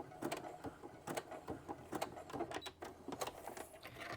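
A domestic sewing machine stitching two elastics together, a quick run of rhythmic mechanical ticks and whirring pulses, close but fairly quiet, with no voices.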